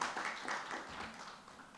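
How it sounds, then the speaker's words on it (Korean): Applause welcoming a presenter at a Korean religious research presentation session, a soft wash of many hands clapping, fairly faint and steady throughout. "큰 박수로 모시겠습니다"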